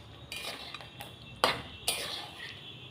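Metal spoon scraping and clinking in a pan while stirring cashew paste masala for a potato and pointed gourd curry, a few sharp separate scrapes over a quiet background.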